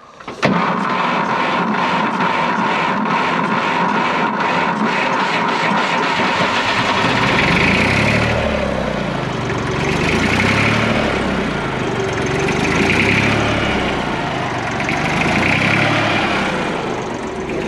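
A Fordson Dexta tractor's diesel engine cranks and fires from cold after a short silence, then settles into a loud, steady, rhythmic chugging idle with a slow pulsing throb that runs throughout.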